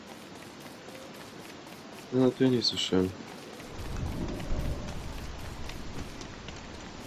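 Steady rain hisses through the Don't Starve game world, with a deeper rumbling swell midway that could be thunder, while someone speaks briefly over it.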